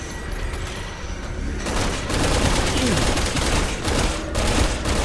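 Rifle gunfire in Resident Evil 6 rolls on as a dense, loud, sustained barrage, with blasts piling into a continuous roar that swells and dips slightly.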